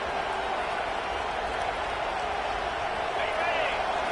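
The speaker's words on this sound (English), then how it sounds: "This crowd bringing the energy and noise early." Broad, steady roar of a college football stadium crowd at a Boston College versus Iowa game, loud and continuous with a dense wash of voices swelling slightly near the end.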